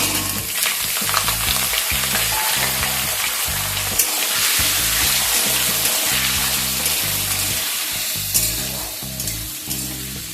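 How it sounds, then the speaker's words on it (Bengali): Cut potatoes frying in hot oil with nigella seeds make a loud, continuous, crackling sizzle, close up, with occasional stirring scrapes and no voices. "এবার এর মধ্যে কেটে রাখা আলু দিয়ে দিলাম।"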